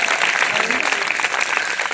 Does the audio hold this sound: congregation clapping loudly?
yes